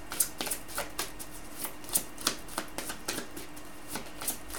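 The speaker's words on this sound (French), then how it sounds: "Je suis appelée à tirer une autre carte." Tarot cards are handled and drawn from a deck, a quick run of soft papery flicks and taps at an uneven rhythm, close and quiet with no talking.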